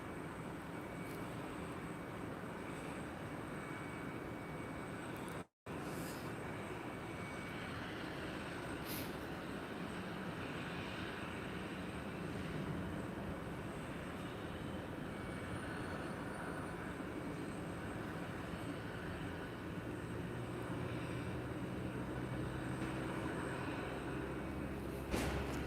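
Boeing 717 airliners pushing back from gates at MSP airport in winter, a steady low rumble of engines and ground equipment throughout, continuous and moderately distant with a brief dropout early on.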